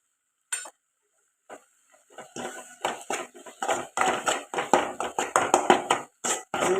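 A spoon stirring and scraping okra pickle with homemade chilli powder and coriander powder in a pan, a quiet start giving way to steady rhythmic scrapes and clinks, close and clear.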